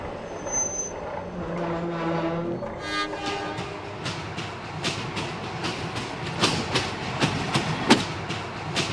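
A heritage train running on the Lancefield railway, sounding a multi-tone horn early on, then rolling past with rhythmic wheel clicks over the rail joints, moderately distant.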